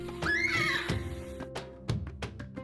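A horse gives a loud, close whinny, a long rising-and-falling neigh with shaky vibrato, followed by snorts and a few knocks or hoof thuds, with no talking over it.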